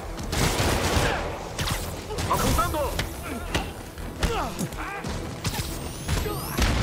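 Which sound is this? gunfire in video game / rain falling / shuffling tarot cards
gunfire in video game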